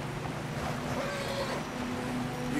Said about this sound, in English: We gotta cross this waterfall.